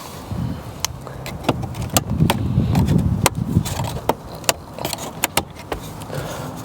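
Wood trim panel being pried loose from the dashboard of a 2012-2014 Lexus ES with a plastic trim tool, giving a run of sharp clicks and pops over low rustling handling noise, close up with no talking.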